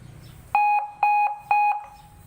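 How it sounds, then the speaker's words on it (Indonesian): A police escort siren sounding much like a vehicle alarm gives three loud, evenly spaced electronic beeping bursts, each a bright two-tone note, with quiet gaps between and faint background hum. "ibarat kata kayak ya alarm motor, mobil, seperti itu suaranya"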